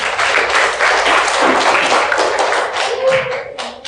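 A classroom of students clapping their hands together at the end of a lesson, a loud, close burst of dense clapping that thins out toward the end.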